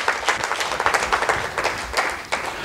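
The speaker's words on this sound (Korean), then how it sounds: "우리 격려 박수 한번 해주실까요?" A church congregation claps together in a burst of dense, continuous applause that runs the full length at moderate loudness, with no voices clearly on top.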